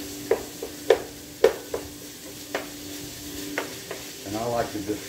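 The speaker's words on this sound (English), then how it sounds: "stir and kind of chop it up into smaller chunks" Ground meat fries in a pan under a soft sizzle while a utensil scrapes and taps against it in repeated sharp knocks, stirring and chopping the meat into chunks, with someone talking briefly near the end.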